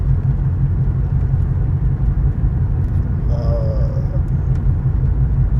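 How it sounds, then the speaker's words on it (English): Constant heavy low rumble of a car engine close by, steady throughout, with a faint brief tone partway through. "when that car drove by me"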